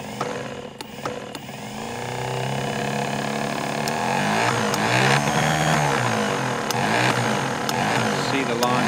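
A continuous loop lure machine for dog lure coursing, switched on and running with a steady motorized whir and drone that builds and holds, joined by intermittent clicks and rattles.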